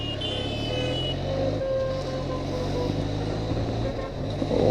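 Benelli TRK502 motorcycle engine while riding, a steady close drone with a slight swell at the end, alone with no voices.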